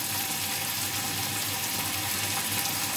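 Water runs steadily while masala bhindi is cooked in a Pakistani home kitchen, a continuous loud rushing splash with no pauses and no talk over it.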